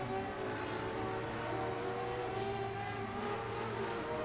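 Group C race cars in a racing video game launch from the start at Charlotte, a blended engine drone humming steadily with slight pitch wavering throughout, no voices.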